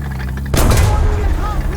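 A tank cannon fires once in a tank video game, a sudden heavy boom over the constant engine rumble, with a voice talking over it.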